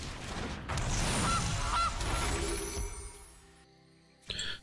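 A Gilded Goose card played in MTG Arena gives two honks in quick succession over a dense, loud layer of game effects, then the sound cuts to near silence before a short closing swell.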